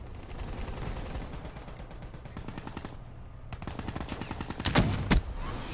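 Rapid automatic gunfire from a gun without attachments in Black Ops 3 rattles in sustained bursts, with a couple of louder, sharper shots near the end, dense and continuous with no talking.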